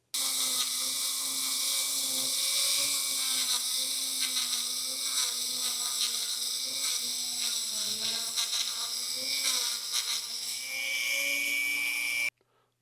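A Dremel rotary tool fitted with a Scotch-Brite pad softens the edge of a camshaft, producing a continuous high-pitched whine with slight pitch wavers as it grinds, then it stops abruptly.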